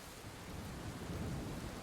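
A thunderstorm effect during a tabletop game session, a dense wash of heavy rain with a low, rolling rumble of thunder swelling steadily, loud and enveloping, with no talking.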